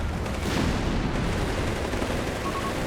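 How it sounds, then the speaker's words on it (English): Machine guns and tank main guns fire in a Company of Heroes 3 match, heard as a dense, continuous roar of gunfire and rumbling battle noise at steady loudness. "machine guns and main guns doing what they can here"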